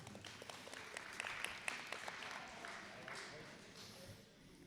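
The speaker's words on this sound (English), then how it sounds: "Round of applause for the volunteer." Quiet audience applause for a volunteer at a live-streamed Mille Lacs Band of Ojibwe event, with scattered claps rising then fading, heard from a distance in a reverberant room.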